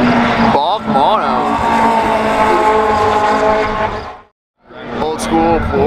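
A Porsche 996 race car passes at a track event with cup cars, a loud close engine roar rising and falling through gear changes, cutting out briefly and then returning, with a voice talking underneath.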